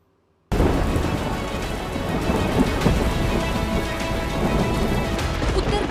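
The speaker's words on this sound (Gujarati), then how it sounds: "ઉત્તર ગુજરાતના જિલ્લાઓમાં મુશળધાર વરસાદ વરસ્યો છે" Heavy monsoon rain pours down across North Gujarat, a dense, steady roar that starts abruptly after a moment of silence, with deep thunder rumbling through the downpour and no voices.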